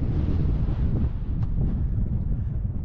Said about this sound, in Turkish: Bu arada rüzgar çok esiyor.